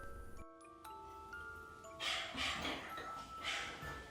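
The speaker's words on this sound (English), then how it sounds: "they began to hear the dog barking like crazy." A dog barks in agitated, repeated bursts, loud and fairly close, after a quiet start with faint tonal background hum.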